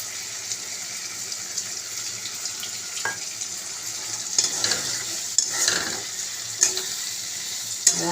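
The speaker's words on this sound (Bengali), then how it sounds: "এবার এর মধ্যে যে মশলাটা গুলে রেখেছিলাম সেটা জল দিয়ে গুলে নেব।" Spice paste mixed with water being stirred in a pan, with a steady soft sizzle and running-water wash throughout, plus intermittent scraping stir strokes and clinks; no talking.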